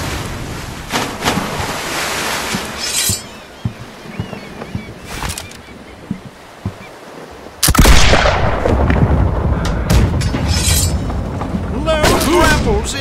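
Pirate ship cannons in a video game fire in heavy, booming blasts, scattered at first and then in a loud sustained barrage over rushing sea noise, with voices shouting in between.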